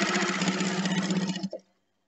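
A home sewing machine stitches through four layers of thick fleece for a stadium scarf, a fast, steady mechanical whir close up that runs for about a second and a half, then stops abruptly into silence.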